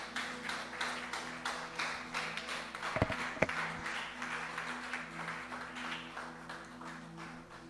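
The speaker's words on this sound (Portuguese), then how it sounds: "Pode dar uma bela salva de palmas para o Senhor Jesus?" A church congregation applauds together during a worship service, a steady wash of many hands clapping throughout with a few sharper taps standing out near the middle, no talk over it.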